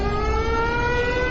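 A loud, sustained siren wail holds a steady, droning pitch with layered tones throughout.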